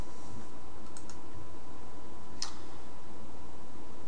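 A computer mouse clicks as files are opened on a computer: a few sharp, faint clicks, one more distinct near the middle, over a quiet steady background hum.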